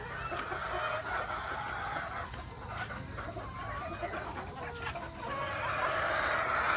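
Many hens cluck and call on a farm in Tanauan, Batangas, Philippines, over a steady, noisy farmyard background, with no one speaking.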